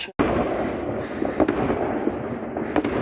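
New Year fireworks exploding outdoors: a sharp opening bang, then a continuous loud crackle broken by several further pops and bursts.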